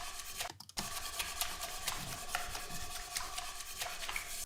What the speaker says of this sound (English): So I know that this washing up is all quite interesting high frequency sound.